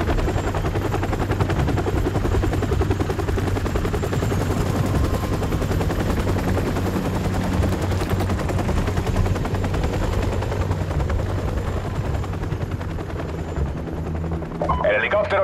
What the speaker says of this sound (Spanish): El helicóptero se está alejando.